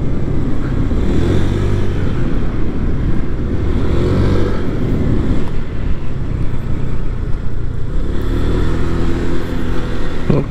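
A 2022 Honda Vario 125 scooter engine accelerating steadily, a loud continuous drone with rising pitch sweeps and wind noise throughout, heard up close while riding.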